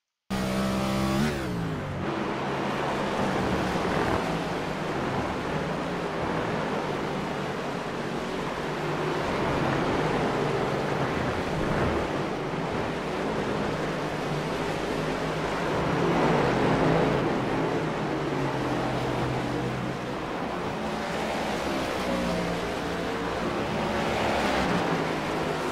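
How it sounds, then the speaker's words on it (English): A NASCAR race car in a video game coasting out of fuel through the final corners at Watkins Glen, heard as a long steady rush of wind and tire noise that swells and eases with no strong engine note. "you could hear him coasting those last few corners as well"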